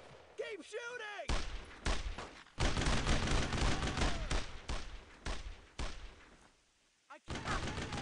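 Gunfire in the World War II shooter Brothers in Arms: Road to Hill 30, with dense bursts of rifle and machine-gun fire over several seconds, loud and close, under shouted squad voices, a short quiet gap near the end, then firing again.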